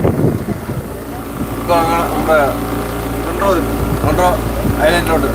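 Engine of a tour boat cruising around Munroe Island on Ashtamudi Lake in Kollam, a steady low drone mixed with wind buffeting, while people talk over it.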